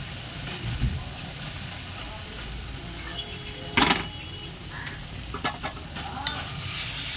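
Spice paste of ground pepper, chilli, cumin and coriander, without onion, sizzles and fries steadily in a pan, with a few louder spatters and clinks of stirring over a continuous hiss.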